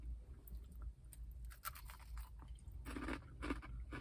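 Crisp crunching bites into a fried chicken breast, several sharp crackles followed by close, quiet chewing, with no voices.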